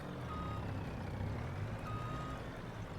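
A truck's reversing alarm in the farming game Farming Simulator 25 beeps loudly and steadily over heavy continuous engine rumble, with no talk.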